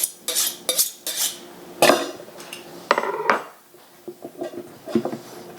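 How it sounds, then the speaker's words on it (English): A knife chops half an onion on a cutting board, giving sharp irregular knocks and clatters at close range with brief pauses between strokes, no voices. "because I'm going to chop a half an onion"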